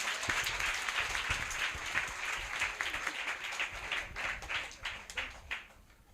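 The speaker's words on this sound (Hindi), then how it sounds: "प्रभु की महिमा के लिए सब जोर से तालियां बजाएं" Congregation in a church clapping together, a dense steady round of applause that turns into distinct rhythmic claps near the end, fairly close, with no talking over it.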